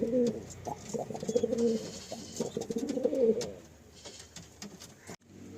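Andhra and Madrasi pigeons coo near at hand in repeated soft, throaty rolling phrases that fade out toward the end.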